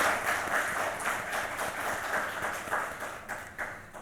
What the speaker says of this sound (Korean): 잠깐 일어나 주시면 우리 환영의 박수로 환영하겠습니다